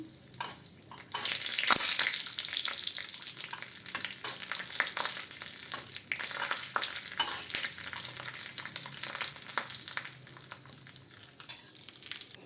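Raisins tossed into hot fried cashews in a pan with the gas just turned off, giving a bright, crackling sizzle that swells as they land and then settles into a steady, spattering fry.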